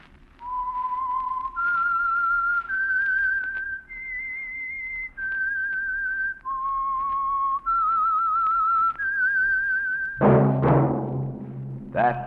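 A lone, clear whistled melody plays the theme tune of The Whistler radio program, a series of held and sliding notes that ends in a brief burst of orchestral music.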